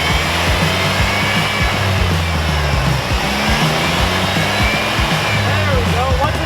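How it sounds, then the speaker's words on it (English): A Hyundai Genesis radiator cooling fan runs with a steady, loud whooshing roar that holds constant throughout, with a voice speaking over it. "I found the right wire because the fan's on right now"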